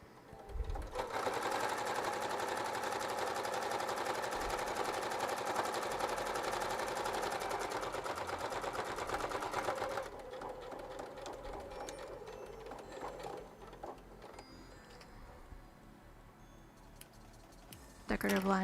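A sewing machine runs in a long continuous loud burst as it back-stitches along a raw fabric edge while quilting, then drops to a quieter, uneven whir with a few stops near the end.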